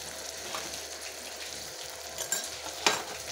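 Onion paste with cumin, ginger and garlic paste fries in oil, giving a soft steady sizzle with a few brief spoon scrapes and clinks near the end.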